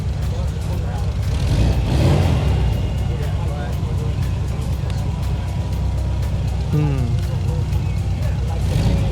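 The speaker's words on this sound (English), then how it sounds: "Well, they're both running though. I hear 2 engines." Steady low rumble of two Volkswagen engines idling continuously, with a dense mechanical drone throughout and a voice speaking briefly over it.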